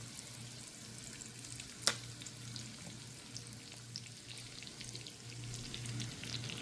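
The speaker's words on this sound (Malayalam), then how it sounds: "പിടിച്ച് നല്ലതായിട്ട് ഫ്രൈ ആയിട്ട് വന്നിട്ടുണ്ട് മറുവശം കൂടെ ഒന്ന് മൊരിഞ്ഞു കഴിഞ്ഞാൽ" Fish fries in tamarind water in a pan, giving a faint, steady sizzle over a low hum, broken by one sharp crackle.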